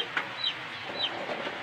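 A broody hen gives a few soft, short clucks close by, scattered over faint background noise.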